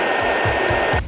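The motor of an Ecovacs X2 Combo vacuum roars during a suction test, a loud steady high-pitched airflow whoosh that cuts off abruptly at the end, close and alone.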